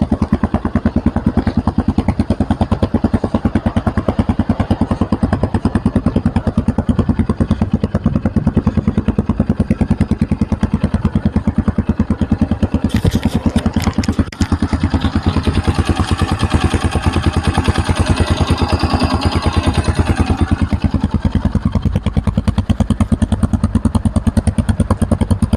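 A Shineray CXR 250 4V motorcycle engine and exhaust run steadily for the whole stretch. The close, loud idle has a continuous mechanical clatter and thumping firing pulses, with a brief rise in revs near the middle.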